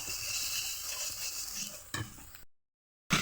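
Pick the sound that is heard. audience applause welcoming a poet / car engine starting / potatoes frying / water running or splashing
potatoes frying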